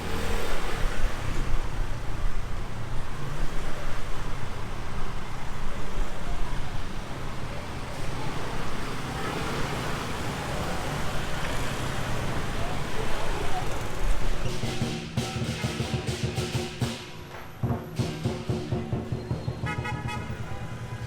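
A motorbike rides through busy Vietnamese traffic on the way from Ho Chi Minh City toward Da Lat, with a steady roar of engines and road noise and repeated horn toots that grow sharper near the end.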